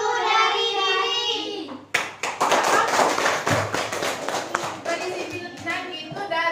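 Seventh-grade junior high students in an Indonesian classroom break into several seconds of loud, lively group applause, with children chanting just before it and voices mixed in.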